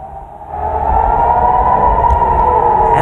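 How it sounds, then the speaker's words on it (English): A loud, steady air raid siren in Israel wails at a constant pitch, rising in at the start and holding, with faint background rumble. "the terrifying sound of an air raid siren"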